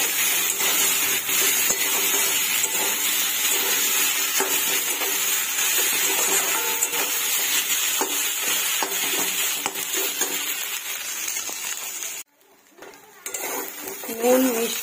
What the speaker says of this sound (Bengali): এবার মশলাটা দিয়ে দেব, মশলাটা দিয়ে কষাতে থাকবো।